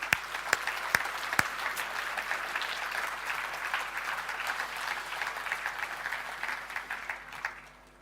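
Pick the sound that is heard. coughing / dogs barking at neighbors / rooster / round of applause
round of applause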